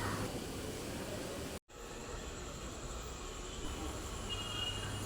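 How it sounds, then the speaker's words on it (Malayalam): A train running at a station, heard from a footbridge above the platforms: a steady, close rumble of rolling wagons with faint wheel squeal, briefly cut by a dropout, and no talking. "അപ്പോൾ ഏതോ ട്രെയിൻ വന്നിട്ടുണ്ട്."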